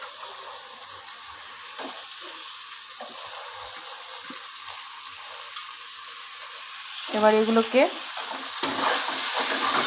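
Green chillies frying in oil with bottle gourd peel and potatoes give a steady low sizzle, then a spatula scrapes and stirs the pan near the end, with a few brief spoken words.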